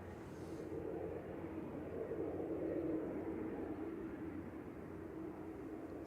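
An RVL Aviation Beech King Air 260 turboprop at Manchester Airport gives a faint, distant, steady engine drone that swells slightly and then eases off.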